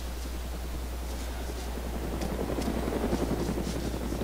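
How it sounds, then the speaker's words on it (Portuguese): Helicopter in the Arma 2 DayZ game, a steady low rotor thrum and whine held throughout with a slight swell toward the end, no talk over it. "Tô ouvindo barulho de helicóptero."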